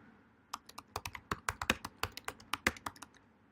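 A computer keyboard being typed on while entering a terminal command, giving a quick, irregular run of close, crisp key clicks over a few seconds with no talking.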